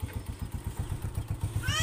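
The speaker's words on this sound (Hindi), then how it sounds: "ये जी हम बाइक पर जा रहे हैं" Motorcycle ride: a close, steady engine putter with fast rhythmic pulses, running continuously through the short stretch.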